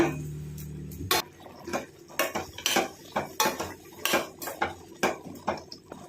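A spoon scrapes and clinks against a pot while pineapple pachadi with coconut and green chilli is stirred, giving a steady run of close, sharp metallic taps after a brief low hum.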